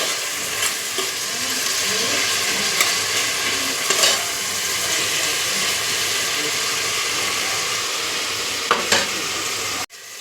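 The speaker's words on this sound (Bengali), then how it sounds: "এবার মশলাটাকে একটু সময় নিয়ে নিয়ে কষতে হবে।" Spice paste stir-fried in a pan for a thin mutton curry, a steady close sizzle with scraping stir strokes throughout, ending in a sharp clatter.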